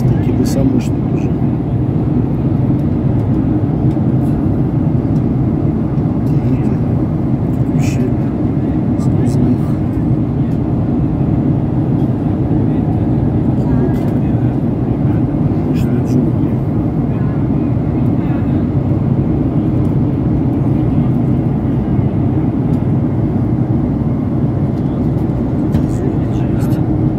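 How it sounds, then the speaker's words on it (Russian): Airliner cabin in flight over jungle on a Turkish Airlines flight, a steady loud broadband engine and airflow drone holding constant throughout, with faint cabin sounds and brief murmurs of talk above it. "Самолет летит над джунглями."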